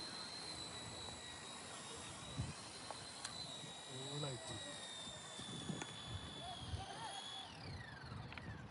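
A JJRC A60 toy RC helicopter coming in to land gives a thin, steady high-pitched motor whine that shifts slightly near the end, quiet and close, with brief faint voices in the background.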